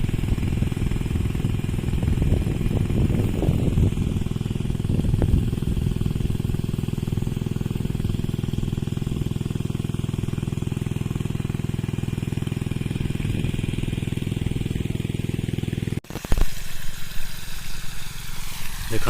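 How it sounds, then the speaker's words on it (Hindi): A farm irrigation water pump motor runs loud and close with a steady droning chug, then cuts out abruptly, leaving quieter outdoor noise. "देखु ये आ गोटे मोटर चलती"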